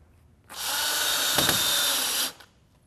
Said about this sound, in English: After the window is set in place, we install fasteners per manufacturer's instructions.